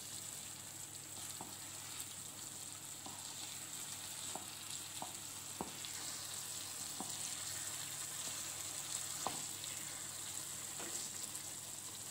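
Stuffed brinjal fries quietly in a pan on low heat with a constant soft sizzle, punctuated by scattered light clicks and scrapes of a spoon stirring.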